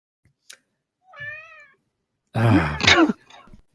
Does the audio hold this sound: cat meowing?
yes